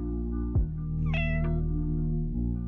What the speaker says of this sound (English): He meows when he collects things, so that's got to be good.